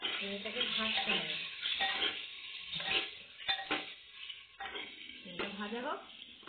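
Boiled eggs frying in oil with turmeric in a pan, giving a steady hiss with occasional stirring clatter under fairly continuous talk from a nearby voice.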